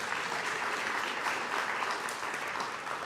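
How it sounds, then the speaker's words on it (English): Steady applause from an audience at a museum panel discussion on hip-hop and basketball, dense and even throughout with no pauses, filling the room. "please give them a round of applause as well"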